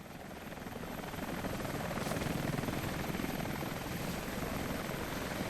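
A helicopter in the video game Rise of the Tomb Raider thrums steadily, its rotor wash swelling slightly louder and holding close with no talk over it.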